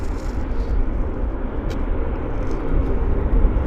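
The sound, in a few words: Qantas airliner at Vancouver Airport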